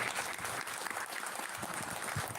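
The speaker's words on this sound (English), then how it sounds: "So thank you so much for a great round of applause." Brief, steady round of audience applause at a conversation event, many hands clapping densely throughout without pause.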